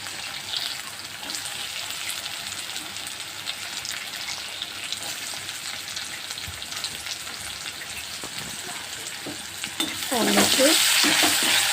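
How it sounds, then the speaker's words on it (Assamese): Potatoes fry in a pan with a dense, continuous close sizzle and crackle that swells louder and brighter near the end, with no one talking. "প্ৰথমতে আমি আলুকেইটা ভাজি লওঁ"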